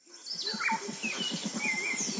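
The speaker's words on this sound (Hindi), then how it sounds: "सुबह सुबह चिड़ियों के चहकने की आवाज आ रही थी।" Several birds chirp and twitter close by in the morning, with quick, bright calls over a rapid pulsing trill in the background.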